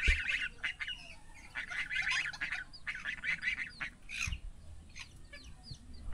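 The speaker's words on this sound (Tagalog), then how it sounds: "Uy, lalabas yung mga itik." Ducks quack and chatter close by in overlapping bursts, with goose honks mixed in among the flock, lively and continuous over light background noise.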